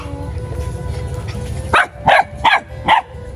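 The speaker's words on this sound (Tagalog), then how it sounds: "Okay lang ba itong mga aso mo rito?" Several dogs at a house bark four times in quick succession, close and loud, after a stretch of low background noise.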